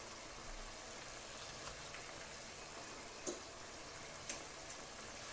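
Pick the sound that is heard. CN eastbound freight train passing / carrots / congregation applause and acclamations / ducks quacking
carrots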